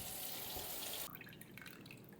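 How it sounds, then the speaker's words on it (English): Fresh cold tap water running into an Instant Pot holding chicken and vegetables, a steady splashing pour that cuts off abruptly halfway, followed by faint drips and trickles in a quiet room. "I'm just going to add fresh cold water to the pot till I get to the maximum fill line."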